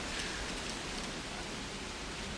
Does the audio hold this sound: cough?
no